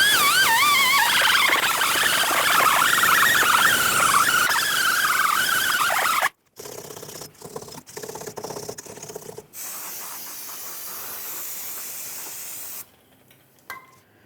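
An abrasive disc whirs against the rear axle and brake rotor mating surface of a 1998-2011 Ford Ranger, a loud, harsh grinding whine for several seconds, then short bursts and a softer scrubbing that fades out.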